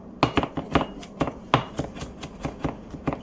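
A knife dices garlic on a cutting board in a home kitchen, making sharp, irregular taps in quick bursts with short pauses between, close and clear with no talking.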